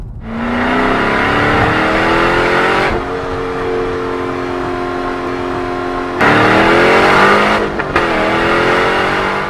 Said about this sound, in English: If you didn't turn down your speakers for that, then Borla's attack system might just be the right exhaust for you.